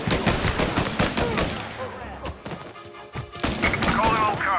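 Rapid gunfire bursts crackle through a chaotic shootout in the Mafia Definitive Edition video game, loud and dense with thuds and reports throughout, a brief lull midway before volleys pick up again.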